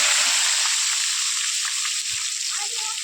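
Brinjal and potato masala frying in hot oil in a village kitchen, a continuous loud hissing sizzle that fades slightly toward the end, with a faint low voice in the background.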